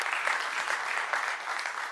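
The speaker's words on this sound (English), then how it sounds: "Please give her a big applause." Steady applause from a conference audience thanking a panel on mining in Chile, dense and even clapping that fills the room for two seconds without any voices.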